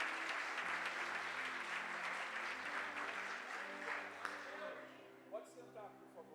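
Sustained applause from a church congregation over soft background music fills the room, then thins out toward the end as scattered claps and faint voices remain.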